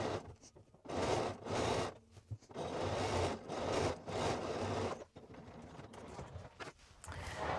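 Sewing machine stitching twill tape onto a garment, running in several loud, steady bursts with short pauses between them, close and alone.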